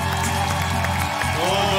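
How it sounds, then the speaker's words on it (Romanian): Audience applause on a Romanian comedy stage as performer Irina Fodor is introduced, dense steady clapping and crowd noise throughout with music playing underneath. "Doamnelor și domnilor, aplauze pentru Irina Fodor!"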